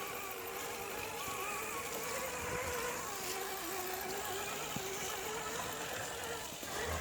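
An Axial radio-controlled truck drives through a construction area on a rainy trail run, its motor a steady, unbroken buzzing whine at moderate distance for the whole stretch.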